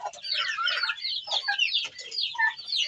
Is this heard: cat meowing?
no